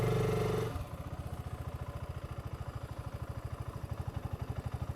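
A 2025 BSA Gold Star single-cylinder motorcycle idles with a steady, throaty thump after a brief louder rev at the start, its pulses evenly spaced and close by.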